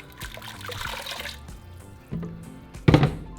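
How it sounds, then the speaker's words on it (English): Salsa roja is poured into a cooking pot of consomé, giving a wet trickling and splashing pour with a louder glugging splash near the end, close by, with no talking. "so to my pot, I'm just going to add my salsa."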